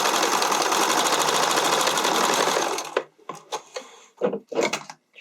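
A sewing machine stitches elastic onto a keyhole neckline, a fast steady whirring run of close-up stitching that stops abruptly, followed by a few light clicks and handling sounds.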